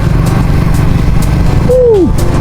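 A motorcycle engine drones loud and close while climbing a steep mountain road in second gear, with a steady low throb and a brief pitch-swooping tone near the end.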